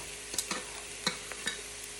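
Vegetables and rice stir-fried in oil in a pan for vegetable fried rice give a continuous close sizzle, broken by several quick scraping stirs.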